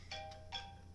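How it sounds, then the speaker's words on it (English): A phone rings faintly in a home, three short electronic trill bursts repeating in quick succession at low volume, with no talk over them. "Oh, Phone's ringing."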